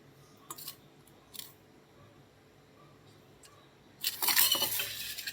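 Boiled eggs are sliced with a knife in a home kitchen, giving a few faint, brief scraping cuts followed by a louder clattering sizzle of oil being readied in a pan.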